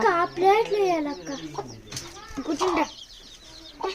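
Baby chicks cheep in short, high, rising peeps close by, several in quick bursts, mixed with a person's voice talking nearby.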